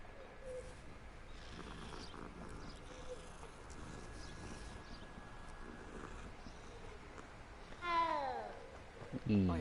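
A cat in the video game Hogwarts Legacy gives a short meow near the end, rising over a steady low bed of game ambience and faint background murmur.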